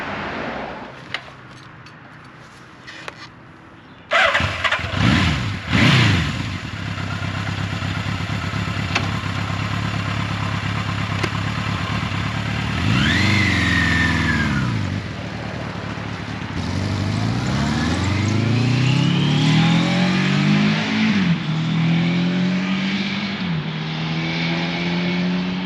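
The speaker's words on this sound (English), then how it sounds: "I am currently riding Suzuki's 1982 GS750E" A 1982 Suzuki GS750E motorcycle engine on the move, heard from the rider's position: after a quiet start it fires into a steady drone, then climbs through gears with rising and falling revs and wind noise.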